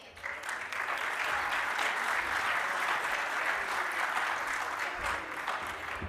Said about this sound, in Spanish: te recibimos también con un aplauso